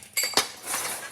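A spoon stirs a Greek macaroni pasta salad in a bowl, giving a few quick clinks and scrapes against the dish followed by soft rustling, close and brief, with no talking.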